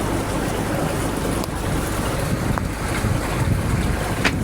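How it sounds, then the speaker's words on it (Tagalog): Boats out on open water, with steady wind buffeting the microphone and broadband wash of waves filling the whole stretch; no voices. "Ang daming bangka dito."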